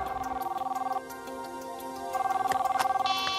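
A cartoon cell phone rings with a steady electronic warble in two bursts separated by a short pause, moderately loud over a faint soundtrack bed.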